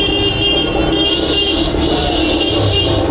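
Dense festival-day road traffic near Anantapur, a constant close rumble of passing cars and trucks with a faint horn tone running through it, no voices.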